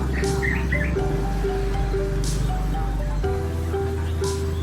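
Caged birds chirping at stalls in the Jambon poultry market: short high chirps and tweets come in small bursts over a steady, noisy market hum.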